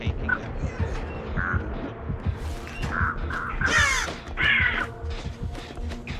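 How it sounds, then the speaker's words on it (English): Crows in the Dead by Daylight video game caw several times in short harsh bursts over a low game ambience, one call louder and rougher than the rest. "Crows go away."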